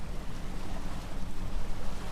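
Steady wind and rushing waves aboard a sailboat running downwind about 10 miles off the Chetco River, a dense continuous wash of water and air with no talking.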